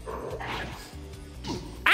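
Dog barks and yips from the video game Persona 2: Innocent Sin, a few short bursts ending in a louder bark, heard over quiet game music.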